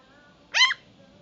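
One short, high-pitched dog bark rings out once over quiet background, brief and fairly close.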